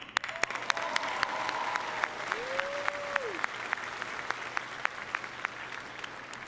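A graduation crowd in a high school ceremony applauds the janitorial staff, sustained clapping from many hands that fills the hall, with a faint sustained tone heard briefly beneath it.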